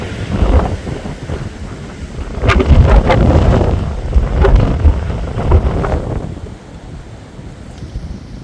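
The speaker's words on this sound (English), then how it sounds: "See the rain coming in sideways now." Storm Eowyn raging outdoors, heavy wind gusts buffeting the microphone in loud surging roars as rain drives in sideways, easing slightly toward the end.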